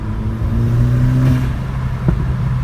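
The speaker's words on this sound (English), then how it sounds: "I actually have a little bit of turbo flutter now" Turbo flutter from an upgraded diverter valve on a VW MK6 GTI, a brief fluttering chatter riding over a steady engine hum and revving, close and moderately loud, with a short burst near the end.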